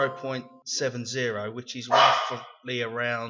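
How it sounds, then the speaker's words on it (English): A pet dog barks indoors in a few short, moderately loud yips and woofs, overlapping with a voice speaking. "Excuse my dog's barking."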